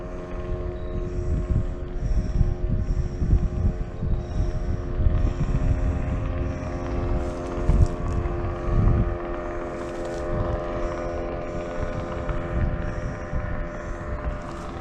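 A motorboat runs out on the Tallapoosa River, heard as a continuous, fairly loud engine drone with a steady whine, mixed with gusts of wind buffeting the microphone.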